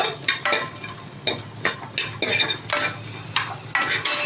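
Ingredients for avarekalu sambar fry in oil, close and fairly loud, with repeated bursts of scraping and stirring over a constant sizzle.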